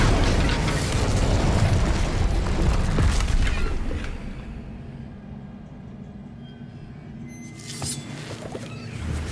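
A fire spell blasts out in Hogwarts Legacy with a loud, broad rumbling burst that holds for about four seconds, then drops to a quieter fading crackle and lower drone, with a brief swell near the end.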